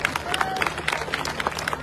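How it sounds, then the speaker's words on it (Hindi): Crowd clapping at an outdoor BJP political rally in support of a candidate, a steady spatter of applause mixed with cheering and voices throughout, moderately loud and continuous. "अरे तो थोड़ा सा विशेष ताली बजनी चाहिए।"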